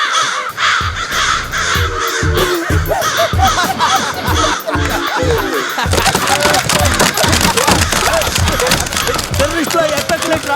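Crows caw harshly and repeatedly, a noisy flock calling close by in overlapping bursts, with people talking and laughing over them.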